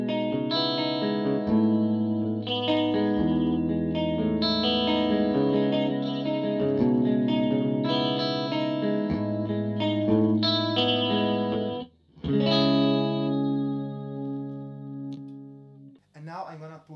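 Electric guitar through overdrive and modulation pedals into the clean channel of a 1990s Marshall JCM600, played as sustained chords and melodic lines with chorus-like shimmer, loud and continuous, with a brief pause near the end.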